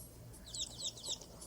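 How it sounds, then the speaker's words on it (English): Short chirping bird calls in a puzzle video game, a few quick high tweets close together, faint and brief over soft background music. "Oh, there's a bird."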